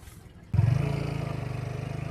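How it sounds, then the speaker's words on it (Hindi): Tractors run at a riverside fair ground being prepared for a mela: a low, throbbing diesel engine rhythm starts abruptly and holds steady, fairly close, over a background wash of outdoor noise. "तो देखो यहाँ पे जो ट्रैक्टर वगैरह काफ़ी चल रहे हैं"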